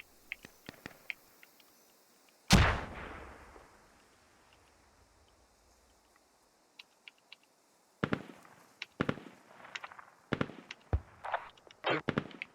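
Mortar shells bursting in the video game Squad: one loud, close blast with a long rumbling tail, then a quieter spell and a later run of sharp cracks and pops, some near, some distant.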